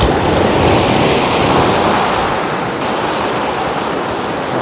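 A strong water current rushes where a river meets the sea during night fishing, a loud, steady roar of flowing water close by, continuous and unbroken with no voices.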